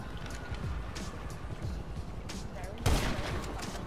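Sniper rifle fire in GTA 5 Online, a single sharp, loud shot cracking out late over a constant game background, with talk and ambient game noise throughout.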